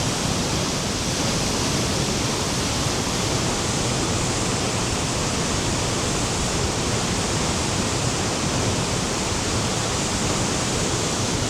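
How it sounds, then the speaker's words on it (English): A powerful waterfall in winter Iceland pours into a river, making a loud, constant roar with no breaks or voices. "Another powerful waterfall. It's coming down there with some venom."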